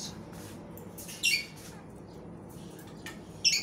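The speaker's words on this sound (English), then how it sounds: "This is our macaw parrot." A pet macaw gives two short, sharp squawks about two seconds apart, fairly close, over a quiet room hum.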